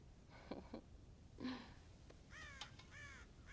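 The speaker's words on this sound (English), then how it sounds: "God damn crows!" Crows cawing around a farm silo in the Red Dead Redemption video game, several harsh caws in short bursts, fairly faint against a quiet outdoor background.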